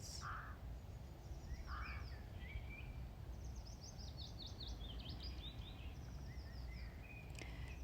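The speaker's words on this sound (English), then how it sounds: "Simply notice the birdsong" Birdsong in a garden: scattered high chirps, trills and short whistled phrases from several birds, faint and soft over a low steady background rumble, with no talking.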